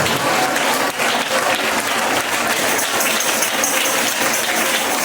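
A church congregation at a Christian worship service breaks into loud, sustained applause, a dense wash of many hands clapping continuously close by with no voices standing out.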